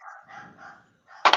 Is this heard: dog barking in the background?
yes